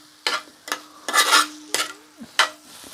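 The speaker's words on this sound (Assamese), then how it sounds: "এতিয়া মিক্স কৰি থাকিম যেতিয়ালৈকে মাংসখিনি ভালকে সিজি নাযায় তেতিয়ালৈকে মিক্স কৰি থাকিব লাগিব" Minced meat (keema) frying in a pan with spices while a spoon stirs it: about six scraping, rustling strokes against the pan at an uneven pace, with a faint sizzle and a steady low hum between them.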